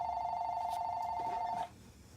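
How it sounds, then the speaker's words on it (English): A phone rings with a steady electronic tone that runs continuously, loud and close, then cuts off abruptly, leaving quiet room noise behind. "my phone is ringing"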